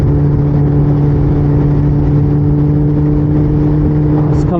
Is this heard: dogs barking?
no